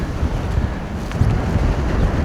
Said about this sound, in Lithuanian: Vėjas tai belenkoks.